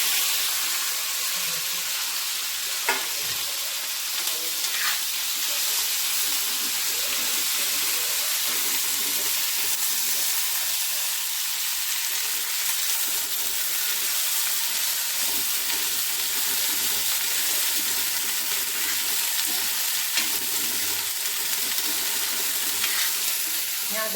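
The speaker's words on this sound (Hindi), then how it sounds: "यहाँ देखिए मैंने छौंक दी है" Tempering spices and chopped green chilli frying in hot oil in a pan, a loud, continuous sizzle with faint occasional scrapes of stirring, steady throughout.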